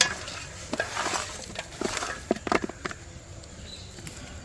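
A spoon stirs and scrapes a masala mixture for Bhimavaram-style chicken dum biryani in a pot, producing soft, irregular clinks and scrapes close by in a quiet kitchen.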